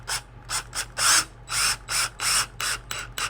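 A power drill drives a screw into wood in a string of short bursts, about eight quick whirring pulses with brief pauses between them, close and fairly loud over a steady low hum.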